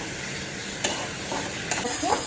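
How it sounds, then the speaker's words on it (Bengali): Steady frying sizzle of chicken in a pan with a few scraping stir strokes, close and moderately loud, no talking. "এবার আমি হচ্ছে চিকেনটা ভাজছি"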